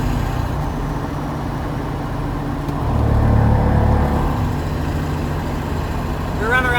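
A 2002 Ford 7.3 Powerstroke diesel pickup with a Diamond Eye Big Dog muffler and resonator coasts at highway speed, giving a steady low drone and road roar with a brief swell in the middle.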